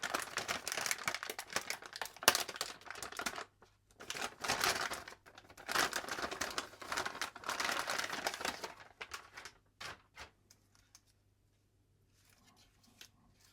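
A plastic bag holding an MSI RTX 5060 Ti 16GB Ventus 2X OC Plus graphics card crinkles as its sealing tape is pulled, in rustling bursts with brief pauses, then quieter scattered crackles before fading to near silence.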